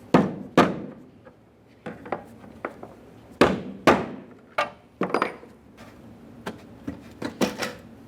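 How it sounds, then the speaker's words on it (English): Brass punch and rubber mallet tapping the fuel pump lock ring of a 1998-2011 Ford Ranger 2.3L four-cylinder, a close series of sharp metallic knocks at irregular intervals, some hard, some lighter. "we'll be using a brass punch and a rubber mallet"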